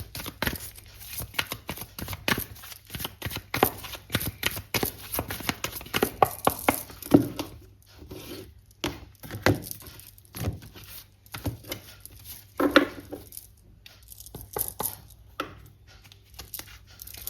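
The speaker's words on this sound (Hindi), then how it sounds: "मैं खुद कार्ड लूँगी, 3 कार्ड लूँगी।" Tarot cards are shuffled and drawn, with irregular soft slaps, riffles and papery rustles that come in uneven clusters at close range.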